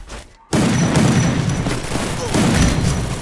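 A loud explosion and gunfire in a video game erupt after a brief quiet moment, with sustained heavy blasts and shots; a voice is faintly present underneath.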